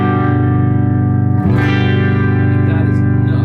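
A Carvin DC 400A electric guitar plays a clean tone with boosted bass, giving a thick sustained chord with a heavy low end, loud and close, and a brief pick scrape partway through.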